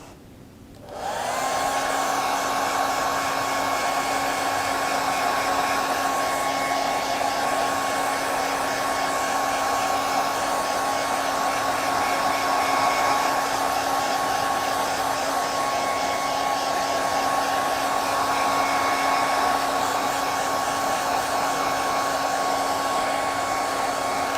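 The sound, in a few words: blow dryer drying paint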